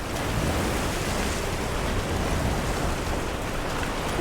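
Heavy rain pours down in the video game Monster Hunter Wilds, a dense, steady roar of hissing drops that holds at an even level throughout with no pauses or talk.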